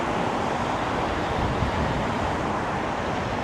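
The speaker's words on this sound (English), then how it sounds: "It's very windy all of a sudden." Wind gusting outdoors beside old apartment buildings on a city street, a steady, loud broadband rush buffeting the microphone with no voices.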